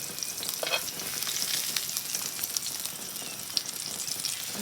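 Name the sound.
garlic and potatoes frying in a pan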